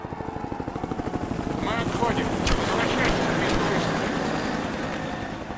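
The in-game helicopter in Rise of the Tomb Raider gives off a fast rotor thump and engine whine that builds and rises into a sustained roar. Game sounds and a voice mix in around it.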